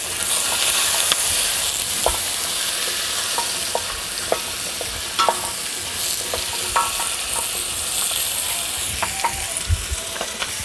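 Onion and carrot fry in a pan as the base for lamb shoulder braised in wine: a steady, loud sizzle runs throughout, with scattered scraping clicks from a stirring utensil and no voices.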